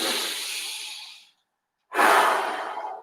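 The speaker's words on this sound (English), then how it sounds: "Deep breath in and out." A single deep breath, a long airy inhale fading out, a short pause, then a strong exhale. Close and clear, with no talking.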